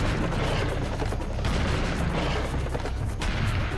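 Constant, dense gunfire and booming blasts fill the Serious Sam 2nd Encounter game, Legend of the Beast level, a loud, unbroken barrage with no pauses.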